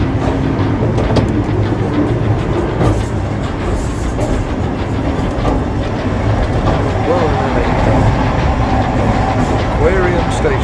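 Volk's Electric Railway train rumbles and clatters along the Brighton seafront, a steady close rolling noise with faint wheel squeals, while a person speaks briefly over it.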